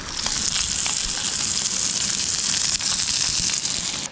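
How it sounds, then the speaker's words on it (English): Trout fillets fry in a hot pan outdoors, giving off a steady, loud, close sizzle with crackling pops throughout. "Sizzling up, getting nice golden brown."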